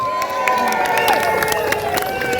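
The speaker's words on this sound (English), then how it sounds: "please give them a round of applause." Outdoor crowd at the official launch of Antigua and Barbuda Carnival 2025 applauding and cheering, a steady, loud wash of clapping and voices with tonal music or sirens running underneath throughout.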